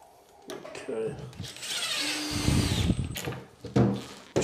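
A power drill driving a screw into timber in a small workshop, whirring in short close bursts with a rising whine, mixed with handling clatter and voices talking.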